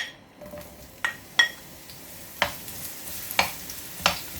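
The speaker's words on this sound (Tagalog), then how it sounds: "At mainit na, lagay na natin yung bawang at sibuyas." Garlic and onion sizzle in hot oil for a sauté, a steady crackling hiss interrupted every second or so by sharp clinks of a utensil against the pan. No voices.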